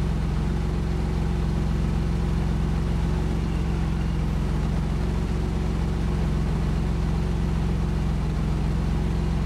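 A car engine idles steadily near its exhaust, a small piece of cardboard held at the tailpipe on a vehicle checked for misfiring cylinders; a smooth, even low rumble continues alone throughout.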